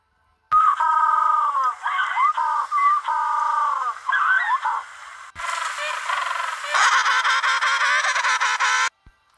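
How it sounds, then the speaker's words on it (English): Ducks calling in a loud, nasal run of quacks and honks that repeats close up and grows denser and harsher in the second half, with no talking. "Ducks."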